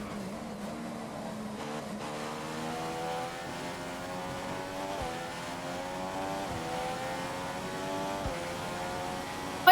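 Force India Formula One car in F1 2015, a high engine whine climbing steadily through the gears with brief dips at each shift, moderately loud and continuous with no voices.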